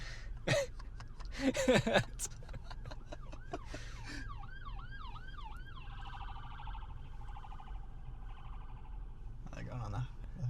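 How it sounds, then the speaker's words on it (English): An ambulance siren wails past as heard from inside a parked car, its rising and falling tone fairly loud for a couple of seconds, then fading into a steady drone, after brief talk at the start. "There's an ambulance going by, so I'm going to quiet down for a second."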